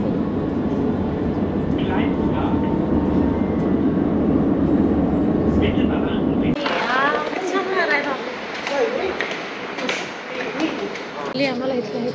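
Metro train ride in Germany on New Year's Eve: a steady low rumble of the carriage fills the first half, then gives way to a quieter cabin with people talking nearby.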